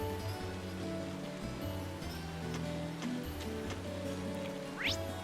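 Steady rain in the game Trails of Cold Steel patters softly and continuously over a low, sustained background music bed, with occasional tick-like droplets and no voices.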